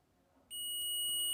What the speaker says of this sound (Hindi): देखता हूँ कि इसमें बीप की साउंड आती है या फिर नहीं आती।